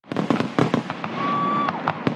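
Fireworks at a party: a rapid crackling barrage of pops and bangs with a rising whistle partway through, dense and continuous, heard at moderate distance.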